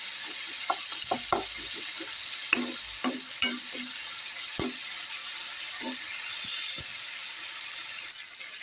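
Tomatoes with a pinch of salt frying down to a paste in a pan for homemade Nepali achar, a steady close sizzle broken by scattered light stirring clicks and taps, with no talking.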